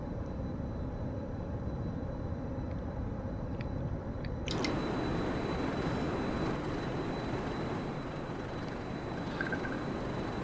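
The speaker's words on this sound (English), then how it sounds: "Somehow it's funny, it has a kind of helicopter noise." The engine of the D77-TC Pelican dropship from Halo in Microsoft Flight Simulator, cruising near 40,000 feet, makes a loud, steady broadband roar that brightens partway through, with no talking.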